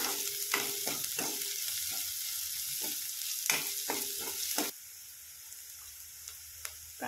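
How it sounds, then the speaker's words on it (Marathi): Garlic frying in a pan for spicy baingan bharta, a close hiss of sizzling oil with repeated scraping stirs, then a quieter, fainter sizzle toward the end. "लसूण टाकते. छान भाजून घेऊ आपण घ्या."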